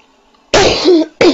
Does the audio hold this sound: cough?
yes